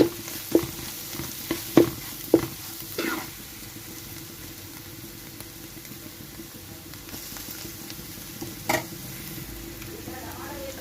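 Spices fry softly in a pan for paneer fried rice. A spoon scrapes and stirs the pan in several sharp strikes early on, followed by a quiet sizzle and one more knock later.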